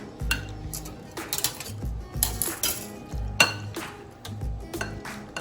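Metal pots and cutlery clatter and clink in a home kitchen as a lid goes onto a cooking pot of rajma pasta with gravy, several sharp knocks and rattles in quick succession, close and fairly loud.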